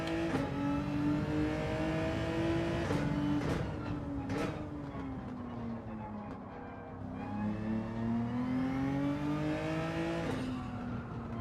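A Nissan GT-R race car in Gran Turismo 7 revs hard and shifts through the gears, its engine note climbing and dropping in repeated sweeps, loud and sustained with brief tire noise.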